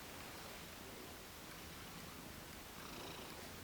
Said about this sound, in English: She's the oldest cat, but she's the sweetest cat.